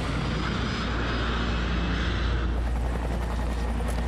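Steady roar of an aircraft engine on the doomed Air Florida flight in winter conditions, a continuous loud drone with a slight shift in tone partway through, no voices.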